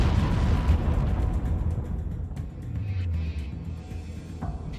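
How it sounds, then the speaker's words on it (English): A deep, heavy explosion aboard the battleship USS Arizona booms and rumbles loudly, its low roar rolling on for several seconds with crackling debris and secondary thuds fading at the end. "The force of the explosion lifts the forward structure of the Arizona 30 feet into the air."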